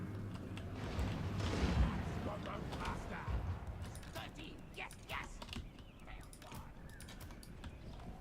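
In Total War: Warhammer 2, a defensive tower fires on a battlefield, giving faint, scattered thumps and cracks against a low rumble of battle noise and clattering movement.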